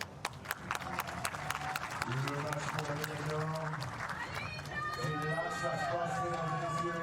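Home crowd at the women's recurve gold match of the Paris 2023 archery World Cup claps and cheers for France's Lisa Barbelin, a few sharp claps building into sustained crowd noise, with a voice talking over it.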